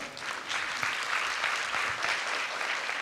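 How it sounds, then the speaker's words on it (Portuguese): Audience applause at a Brazilian business conference, a steady, moderately loud wash of clapping from a crowd lasting the whole stretch. "Palmas para você também, tá?"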